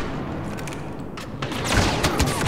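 Gunfire in the video game Star Wars Battlefront comes as rapid, close bursts of crackling shots and booms, growing heavier and louder toward the end, with no talk over it.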